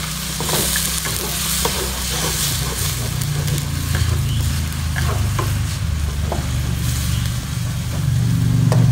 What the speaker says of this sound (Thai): ช่วงนี้เราก็คนไปให้หมูสุกดีๆนะครับ